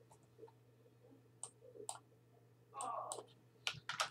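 A few scattered keyboard clicks and taps, faint and sparse, over a low electrical hum, with a short rustling burst in the middle.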